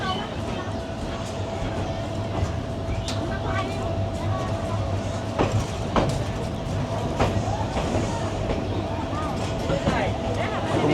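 Passenger train on the Dhaka to Kishoreganj line running steadily near Malikkhali station, a continuous rumbling roar with a low drone and scattered clacks throughout, with people talking over it.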